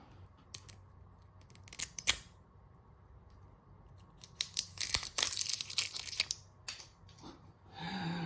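Packaging for a mint, tonka bean and coconut beard product being opened up close, with scattered crinkling, tearing and snipping sounds that build into a dense rustling burst before a few final crackles.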